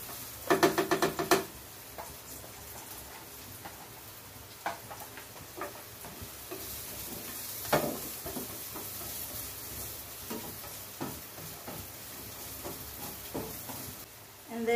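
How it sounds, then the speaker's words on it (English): Onions sautéing in hot oil with occasional stirring and utensil clicks, a brief burst of sizzle near the start, then a steady low crackle under light scraping sounds, fairly close and moderately quiet. "We are now going to start to saute our vegetables. So we start with our onions."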